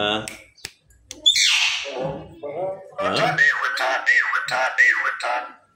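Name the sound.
pet myna bird calling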